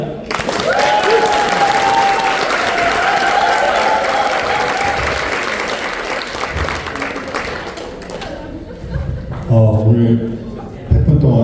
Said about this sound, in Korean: 오늘 100분 동안 연강해 주신 우리 교수님께 다시 한번 뜨거운 박수 드리고요